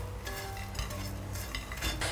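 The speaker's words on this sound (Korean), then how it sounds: "요거를 이런 접시 같은 데다가 살짝 좀 덜어 놓으세요." Stir-fried squid and anchovies in gochujang being scooped from a frying pan onto a plate, with steady scraping and stirring of a utensil against the pan, light clinks and a faint sizzle, close and continuous.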